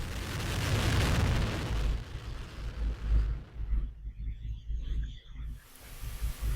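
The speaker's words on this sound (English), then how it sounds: "Main engines start and liftoff of the Delta II rocket with SMAPS" A Delta II rocket's main engines ignite and it lifts off from Vandenberg carrying a NASA soil-moisture satellite, a loud, sustained roaring rumble that swells and then fades into crackling distant thunder.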